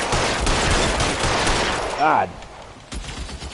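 Sustained gunfire from a shootout in the video game L.A. Noire, a dense crackle of rapid shots filling most of the span, with a brief spoken voice near the end as the firing thins.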